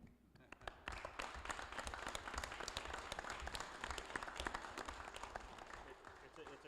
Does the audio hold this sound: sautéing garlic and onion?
no